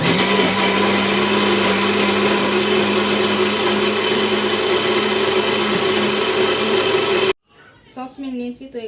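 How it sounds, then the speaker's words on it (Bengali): A blender whirs loudly and steadily through a thick mixture thinned with milk, running for about seven seconds before stopping abruptly, followed by a brief stretch of quiet speech. "তো মিল্কটা দিয়ে একটু নেড়ে ছেড়ে আমি আর একটু ব্লেন্ড করে নেব এটা"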